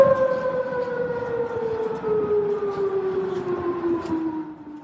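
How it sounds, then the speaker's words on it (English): Air raid sirens wailing across Bahrain during missile strikes, a steady, loud, continuous tone that slowly falls in pitch and drones on without a break. "Those are the sirens in Bahrain"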